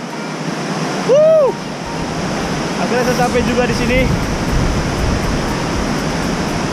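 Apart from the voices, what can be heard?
Binanga Bolon waterfall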